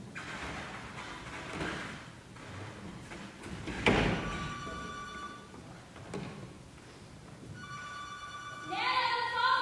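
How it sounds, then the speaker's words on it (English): Telephone bell ringing during a school theater one-act play, repeated electronic rings appearing in bursts among stage noise, rain-like background and footsteps, with brief voices nearby. "the phone's ringing."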